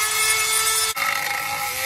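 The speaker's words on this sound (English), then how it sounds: "Now he's sanding the inner cut." Steady, abrasive whirring of a power sander smoothing the inner cut of a homemade bird bath close by, with a brief dip midway before the grinding buzz resumes.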